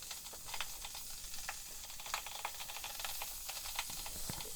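Steady hiss and rumble of water heating in a Chinese-made electric kettle, with faint crackles and ticks scattered through, close by and fairly quiet.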